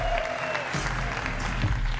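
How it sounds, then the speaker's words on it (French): Children in a television studio audience applaud briefly, a quick burst of clapping with a sustained tone fading out beneath it. "Applaudissez s'il vous plaît, les enfants."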